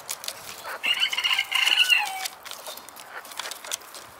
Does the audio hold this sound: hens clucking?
yes